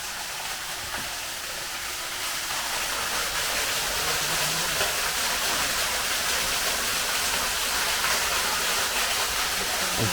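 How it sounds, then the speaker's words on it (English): Waterfall rushing outside an abandoned house, a steady broadband roar of falling water heard continuously without talk. "I don't know what it is out here. Sounds like a waterfall."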